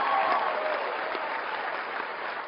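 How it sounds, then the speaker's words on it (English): Applause from a CPAC audience: a dense, loud wash of many hands clapping steadily, fading just a little over a few seconds. "I want to hear loud applause"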